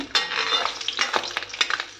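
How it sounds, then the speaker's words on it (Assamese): Small fish crackle and sizzle in hot oil up close, a steady frying hiss broken by sharper pops and spits, with no voices. "সৰু সৰু মাছ ভাজিছোঁ"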